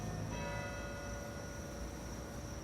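Church bells ring faintly in the distance, a sustained metallic tone lingering over a low background rumble, with no talking.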